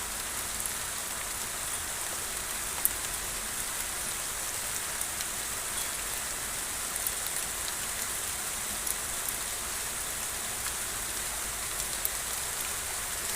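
Hail falling steadily in a dense, even hiss, with occasional sharper ice hits popping out; no voices.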